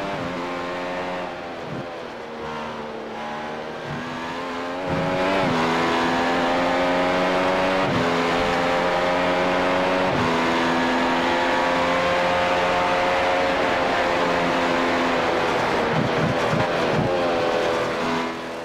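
A race car engine in a racing video game at Monza, a loud sustained whine that climbs and drops through gear changes, with a sharp lift-off and renewed acceleration out of a chicane.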